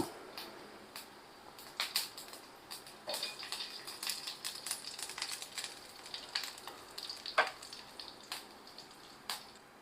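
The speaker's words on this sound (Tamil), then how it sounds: "ரசத்துக்கு தாளிக்கிறோம்" Spices crackle and sputter in hot oil while tempering for rasam, a steady busy sizzle with sharp pops scattered throughout, close by and with no talking.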